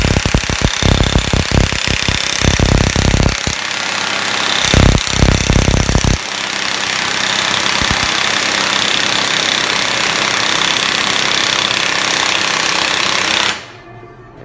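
Air impact wrench hammering out a front control arm bushing in a garage: loud rapid rattling bursts at first, then a sustained harsh mechanical hammering roar that cuts off near the end.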